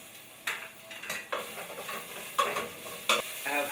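Edamame sizzles in a hot pan with aromatic garlic, punctuated by several brisk stirring scrapes of a utensil against the pan over a soft, steady frying hiss.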